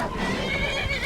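A horse in the video game Skyrim neighs loudly and continuously for about a second, set against a dense backdrop of game sound, with no talking.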